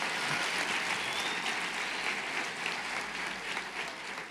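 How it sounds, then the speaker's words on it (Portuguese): A church congregation gives a dense, sustained round of applause during a worship service, a steady wash of many hands clapping that fills the whole stretch and eases slightly toward the end. "Dê para Jesus uma forte salva de palmas."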